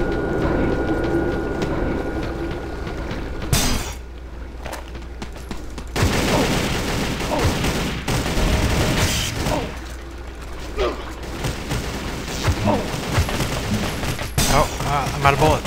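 Gunfire in the shooter game Subvein comes as bursts of rapid shots and fusillades in several clusters, with mechanical clanks in between, loud and close throughout.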